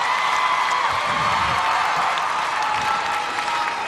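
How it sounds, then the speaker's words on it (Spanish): An audience at the Premios Juventud 2008 awards show applauds and cheers for Thalía, a dense, steady wash of clapping with scattered whoops, filling the hall without pause. "Un fuerte aplauso Thalía para Thalía"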